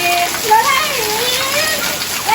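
Rain pours down steadily while children play and splash in water, their high, lively voices calling out close by over the constant wash of falling water.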